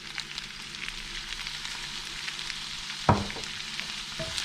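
Nasi goreng balado sizzles steadily in a pan after soy sauce is added, a soft continuous frying hiss broken by a sharp clatter near the end.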